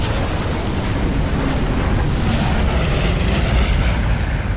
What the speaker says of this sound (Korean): 폭발이 일어났다.